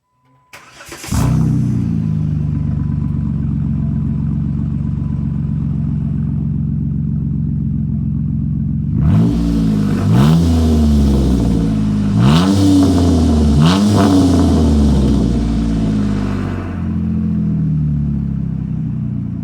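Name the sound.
Jeep JK engine started and revved with axle-back muffler delete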